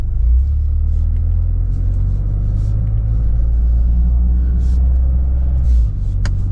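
A 2025 Toyota GR Corolla is driven in automatic with track mode on and traction control off. Its engine gives a heavy, steady rumble close to the listener, with a brief dip near the end.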